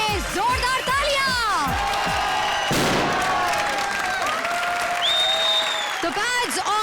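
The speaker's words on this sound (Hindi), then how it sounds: "चारों टीम्स के लिए जोरदार तालियां।" A television comedy show's studio audience gives loud, sustained applause, a dense burst of clapping and cheering. A high, swooping musical or electronic sound plays over it throughout.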